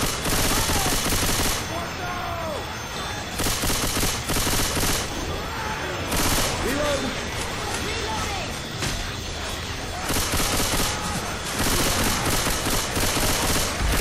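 Dense, continuous gunfire in the zombie co-op shooter Left 4 Dead 2 during a horde fight on the Dead Center campaign, loud rapid shots repeating throughout, with players talking over the shooting.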